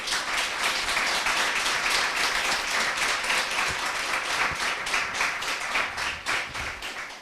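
An audience applauds at a business academy jury presentation, dense sustained clapping from many hands in a room, loud and steady throughout without pause.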